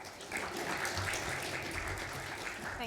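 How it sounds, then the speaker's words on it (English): Audience applause in a conference hall at a cybersecurity event, steady broadband clapping sustained for about three seconds, moderately loud with no talk over it. "So can we have a warm round of applause for Meg and Ross as they make their way up on stage"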